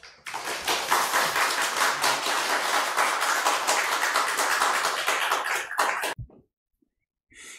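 Audience applause welcoming a professor to the stage at a Korean church gathering, a dense burst of clapping lasting about six seconds before stopping abruptly into silence.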